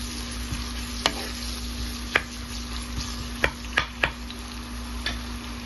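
Garlic with a little turmeric frying in a pan, a quiet steady sizzle under a low hum, broken by a handful of sharp spatula taps and clicks.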